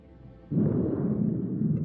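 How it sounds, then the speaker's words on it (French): A sudden deep boom erupts after a quiet moment in the game Man of Medan, then a sustained low rumbling roar that stays loud to the end. "C'est quoi cette explosion?"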